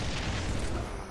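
A grenade blast in Halo 3 multiplayer: a single dense, broadband boom with low rumble that fills the brief moment at steady loudness, with no voices over it.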